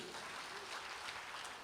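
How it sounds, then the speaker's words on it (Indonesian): A church congregation applauds during a Sunday communion service, a soft, steady wash of many hands clapping at some distance, continuous throughout without distinct individual claps. "Amin, tepuk tangan buat Tuhan Yesus."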